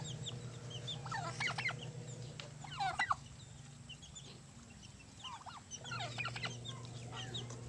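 Chickens and turkeys clucking and gobbling in a few short bursts over a steady low hum, moderately close with some quiet pauses.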